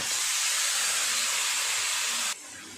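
Marinated country chicken hits hot fried onions in a pan with a loud, steady sizzling hiss that drops sharply in intensity near the end.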